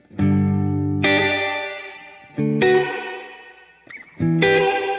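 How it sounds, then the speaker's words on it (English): Electric guitar through a UAFX Golden Reverberator pedal set to spring reverb with wow and flutter modulation: four strummed chords ring out in turn, each swelling with wavering, drippy spring reverb and trailing off before the next. "So for the spring, the mod control is wow and flutter."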